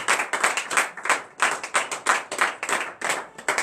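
A congregation at a Tuesday morning prayer service in Benin claps in a steady rhythmic beat, distinct synchronized hand claps at roughly three per second, close and clear with no talking.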